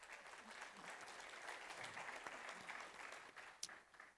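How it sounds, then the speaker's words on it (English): An audience at a keynote applauds, a dense patter of clapping from a crowd that holds steady for a few seconds, fairly distant and soft, with a sharp single clap near the end. "Big round of applause."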